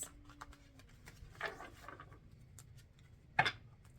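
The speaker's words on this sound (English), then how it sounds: "I'm going to shuffle 3 more times." Tarot cards shuffled by hand in a quiet room, giving a few soft papery riffles and taps, faint and close, with one sharper snap near the end.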